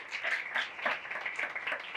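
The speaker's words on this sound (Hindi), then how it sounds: "तो जोरदार तालियां बजाइए उसी खुदा के लिए" A church congregation claps together, a brief burst of quiet, rapid applause lasting a couple of seconds.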